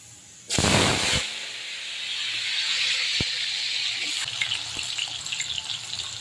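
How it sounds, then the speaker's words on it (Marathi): Potatoes drop into hot oil with a sudden loud splash and hiss, then settle into a steady, crackling sizzle while frying for sabudana khichdi. "इथे तेल आपलं गरम झाले मी आधी बटाटा टाकून घेणार आहे तेलामध्ये बटाटा टाकून"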